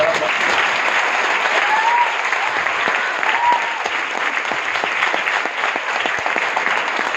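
A seated audience at a motivational talk in Virar claps loudly and continuously. The dense, even applause holds steady throughout without a break, and no one speaks over it.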